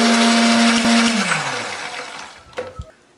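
A blender runs loud and steady, grinding a paste of candlenut, garlic, shallot and turmeric with a little water, then its motor winds down and stops, followed by a couple of soft knocks.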